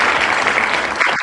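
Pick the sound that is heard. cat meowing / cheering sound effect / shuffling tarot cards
cheering sound effect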